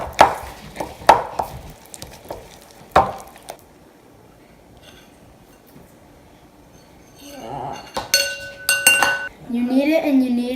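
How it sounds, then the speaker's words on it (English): A spoon mixes Elmer's frosty slime in a plastic bin, with sharp scraping clinks in scattered bursts, a quiet lull, then a renewed cluster of knocks and a brief voice-like sound near the end. "Then you take a spoon and mix it all up."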